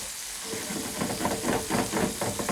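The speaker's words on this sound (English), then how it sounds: "I'm finished that up with like a tablespoon of butter to finish the sauce. Mix in it." A spoon stirs a tablespoon of butter into a hot sauce in a pan, with a steady sizzle and a rhythmic scraping swish repeating every half second or so, close and fairly loud.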